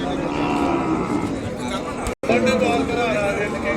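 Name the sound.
cattle at livestock market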